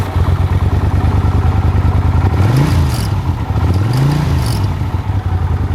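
A 1983 Honda CX 500 Super Sport motorcycle, long stored on museum display, cranks and catches, its engine churning loudly and close before two rising-and-falling revs swell and settle back to a rough idle.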